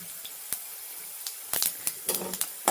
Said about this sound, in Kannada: ಈಗ ಇದನ್ನ ಫ್ರೈ ಮಾಡ್ಕೊಳ್ಳೋಣ.